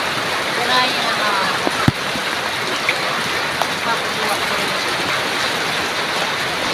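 Steady hiss of rain falling outdoors, continuous and fairly loud, with a few scattered drips and knocks.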